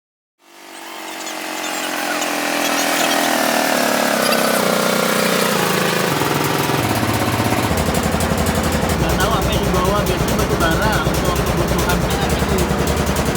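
A wooden boat's engine starts and revs up to a loud, steady, rattling drone while crossing the Kahayan river, rough and close throughout.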